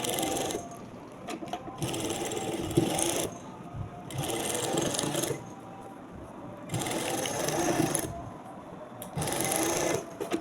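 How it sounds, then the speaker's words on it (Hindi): A sewing machine runs in several steady bursts separated by short pauses, stitching fabric to join a cut work sleeve pattern, close and moderately loud with a whirring mechanical drone. "जो सिलाई आपने चलाई थी उसी सिलाई के ऊपर ही दोबारा से आप सिलाई चलाएं"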